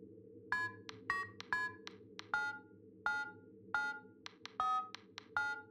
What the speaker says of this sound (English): I also figured I had to play the Fnaf theme song on the phone